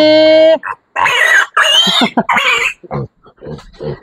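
A sow and her piglets squeal and grunt during weaning, with a loud sustained squeal followed by a burst of excited, overlapping grunts and squeals at close range.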